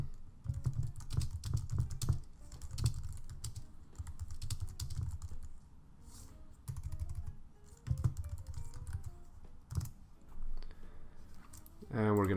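Steady clattering keystrokes on a computer keyboard come in fast bursts with brief pauses, close and crisp, while someone talks over them.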